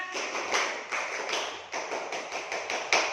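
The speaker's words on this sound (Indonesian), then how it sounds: "Coba tepuk semangat." Children in a classroom performing the rhythmic tepuk semangat spirit clap, a steady series of sharp hand claps in a patterned beat, fairly close and continuous without talk.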